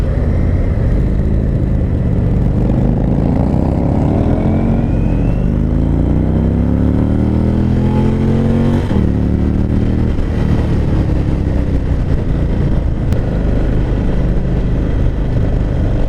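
An Indian Springfield Dark Horse motorcycle engine pulls steadily under acceleration, its pitch climbing through gears with a brief dip at each shift, loud and close throughout.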